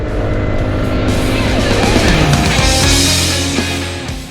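An Alpha Volantis Horizon300 Strike Edition motorcycle engine accelerates hard, a loud, steady roar that builds and holds close by without any talk over it.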